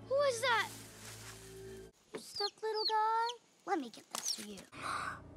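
Animated chickens clucking and squawking in the film The Good Dinosaur, in quick, sharp bursts, close by, with a burst of agitated noise at the start and gaps between calls.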